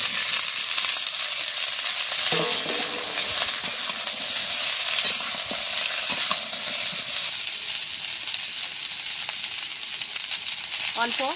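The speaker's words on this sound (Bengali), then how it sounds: "ভেজে রাখা সবজিগুলো সব আমি কড়াই দিয়ে দিচ্ছি।" Fried vegetables, including eggplant and drumsticks, go into a kadai for shukto and sizzle loudly and continuously in hot oil, with a few soft knocks and scrapes of stirring heard close by.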